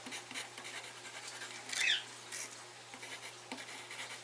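A pen scratches by hand across a plant label in quiet surroundings, making short, faint scribbling strokes in irregular bursts, with one slightly louder scrape midway.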